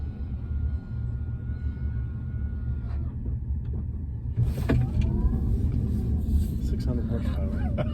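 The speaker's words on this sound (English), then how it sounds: "This is actually smooth, quieter than my mom's car." Inside a Tesla Cybertruck on the move, a low, steady road rumble fills the cabin, quiet and even, while passengers talk over it; a brief whirring mechanical sound is heard partway through.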